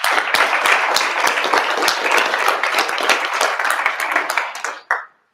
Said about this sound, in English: round of applause for our amazing speakers